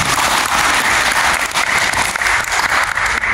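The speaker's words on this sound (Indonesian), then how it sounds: "Tepuk tangan untuk Papua Barat Daya." A crowd at a provincial political gathering for Papua Barat Daya breaks into loud, dense applause that holds steady throughout, with no voices above it.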